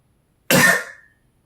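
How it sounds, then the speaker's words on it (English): A single sharp, forceful cough from a person with laryngitis, close to the listener, trailing off quickly into silence. "I apologize for coughing."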